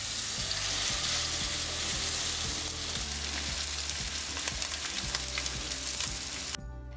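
Fish sizzles steadily in a hot frying pan, with a few soft scraping and shuffling sounds as the pieces are turned over, close and continuous throughout before cutting off near the end.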